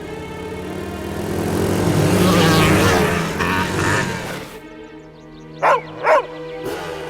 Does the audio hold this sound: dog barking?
yes